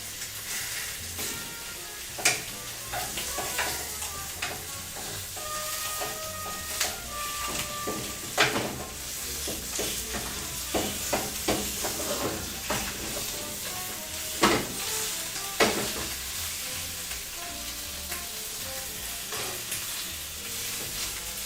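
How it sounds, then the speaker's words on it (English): Chicken frying in a pan while making chicken mole, with steady sizzling broken by clattering stirs and scraping utensil hits, close and fairly loud, with no talking. "We're just frying up the chicken."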